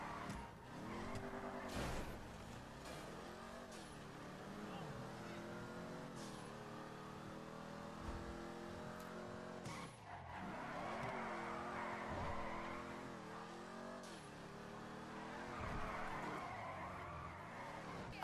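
Sports car drifting in GTA 5, engine revving up and down through gear changes with tire squeal and skidding, steady and moderately loud, a faint voice occasionally under it.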